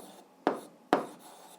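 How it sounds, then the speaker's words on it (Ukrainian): A pen writing an answer on paper, two short scratchy strokes a half-second apart, close and quiet, over a soft room hiss. "зараз записуємо відповідь, пишемо відповідь"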